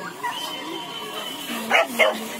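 Dog barking at a dog race held for Indonesian Independence Day celebrations in West Sumatra: a couple of short, close barks near the end, after whiny yips, with faint voices in the background.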